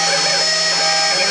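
A home-made gantry CNC machine mills with a tiny 0.05-inch ball end mill, giving a steady, loud, tonal whine with sustained harmonic hum and no breaks, close by.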